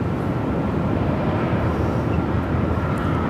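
A Southwest Boeing 737 MAX 8 jet at Phoenix Sky Harbor gives a loud, steady broadband roar that holds evenly without pause, with some wind buffeting on the microphone.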